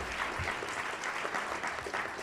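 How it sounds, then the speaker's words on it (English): Audience applause for a guest speaker at a National Press Club luncheon: dense, steady clapping from a room full of people, fairly close and sustained for a couple of seconds with no pause. "How about a round of applause for our guest speaker today?"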